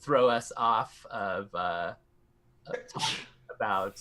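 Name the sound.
sneeze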